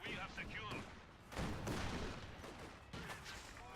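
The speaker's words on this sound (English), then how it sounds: "These canister shots are not a joke" M42 guns fire canister shots in a strategy video game, with several heavy blasts and booming bursts rolling under a commentator's ongoing talk.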